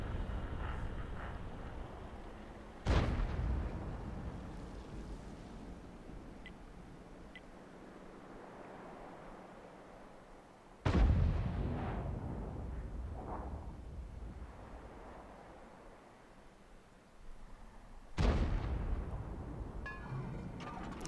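Tank cannon shots in World of Tanks, fired by an Objekt 261 artillery vehicle, with three sharp booming blasts spaced several seconds apart, each trailing into a long rumbling decay over a low background drone.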